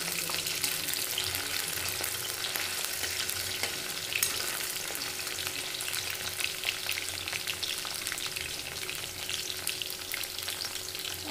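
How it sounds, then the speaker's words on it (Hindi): Okra (bhindi) frying in a pan, a dense, even sizzle that holds steady from start to finish with fine crackling and no voices. "भिंडी को हमें थोड़ा थोड़ा करके ही फ्राई करना है, तभी हमारा भिंडी अच्छे से फ्राई होगा"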